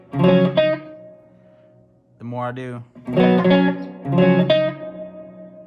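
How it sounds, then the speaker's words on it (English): Guitar notes ring through a Luna 15W prototype amplifier with its reverb dwell turned up, a few loud struck chords separated by pauses, their tails lingering; a voice speaks briefly between them. "So very slight reverb, but if I turn up that dwell just a little bit"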